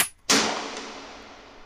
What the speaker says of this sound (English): and then a pistol fire